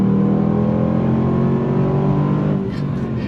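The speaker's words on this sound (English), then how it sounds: "On throttle, here we go" A 2022 Range Rover Sport SVR Ultimate engine revs hard on throttle, a loud, close, sustained drone that eases slightly near the end, with no talking over it.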